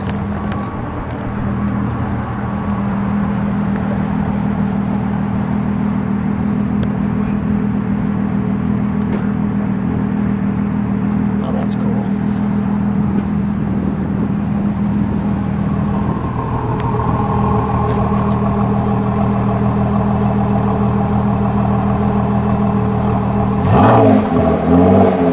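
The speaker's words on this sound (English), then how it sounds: "and then we'll give it a rev" A yellow 2017 Ford GT's twin-turbocharged V6 runs loud and close with a steady deep rumble and whir throughout, rising briefly in a rev near the end.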